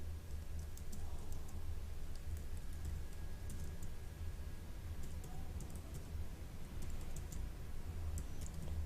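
Steady tapping on a computer keyboard, close and continuous with short bursts of clicks over a low constant hum, no voices present.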